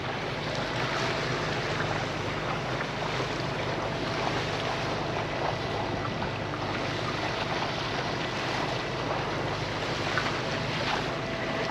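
A sailboat motoring under engine near St Lucia on calm water, heard as a steady, dense rumble and wash mixed with wind buffeting the microphone, continuous and even throughout, with no speech.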